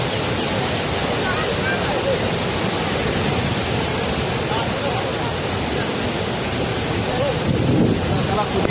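Floodwater from the Paithan dam overflow rushes in a loud, unbroken roar that is close and constant, with some wind buffeting and no clear voices.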